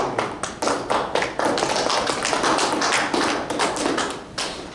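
A small group claps together at a gathering, a rapid burst of overlapping hand claps that holds steady and then thins out near the end, with no talking over it.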